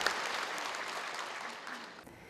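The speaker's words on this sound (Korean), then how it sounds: "참석자 모두의 뜨거운 박수갈채 속에 끝을 맺었습니다" Attendees at a Won Buddhist retirement ceremony give warm, sustained applause, a dense and even wash of clapping from a seated crowd that tapers off at the end.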